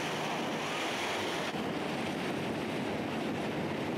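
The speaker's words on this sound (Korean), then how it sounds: "보트로 달리자마자 거센 물살이 배에 부딪힌다." Speedboat racing over the strong river current below Iguazu Falls, with a continuous rushing roar of water and wind pressing against the hull, loud and steady, with no talking.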